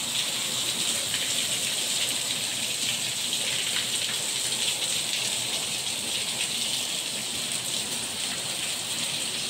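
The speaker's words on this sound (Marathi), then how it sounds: "खूप सर्व पाऊस आहे." Heavy rain pours down in Mumbai, a dense, loud, unbroken hiss of drops beating on surfaces close by, steady from start to finish with no voices.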